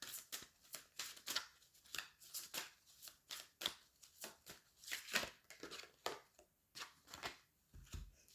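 A deck of oracle cards is shuffled by hand in a steady run of crisp riffling bursts, close and fairly quiet, with no voices.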